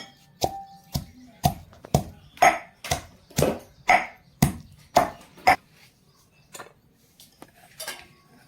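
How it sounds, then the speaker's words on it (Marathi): Green chilies are pounded in a mortar: about a dozen close, evenly spaced thuds in a quick rhythm, then a few softer, slower strikes. "आता या मिरच्या बारीक खलबाजात कुटून घेऊ"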